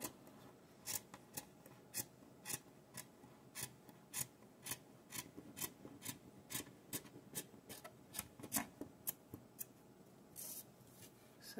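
Scissors snip around a piece of crochet fabric, a steady series of crisp, close cuts roughly twice a second, quiet and unaccompanied by voices.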